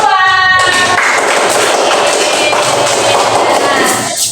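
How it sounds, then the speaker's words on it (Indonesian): Audience in a classroom or hall clapping for a student presentation group, a loud burst of many hands that starts after a brief opening voice and sustains evenly before trailing off at the end. "Ya, beri tepuk tangan untuk kelompok visual."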